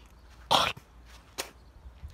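Two short, rough coughs, close by, separated by a brief pause in an otherwise quiet room.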